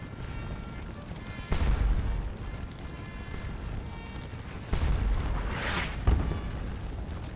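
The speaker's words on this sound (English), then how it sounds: "We're firing off our last canister now." Cannon fire from artillery shooting canister in a Napoleonic-era video game battle between Prussians and French at Wavre: two or three heavy booms over a constant din of battle, with faint talk.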